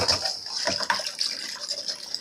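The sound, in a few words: rinsing garlic scapes in water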